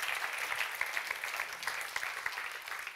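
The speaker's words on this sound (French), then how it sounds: "Applaudissements." Audience applause at a live advertising awards showcase, a faint, distant wash of many hands clapping steadily, with scattered sharper claps standing out.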